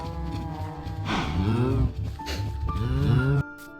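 Cows moo in a block-building survival video game, two long drawn-out lowing calls one after another, loud and close with no talk over them.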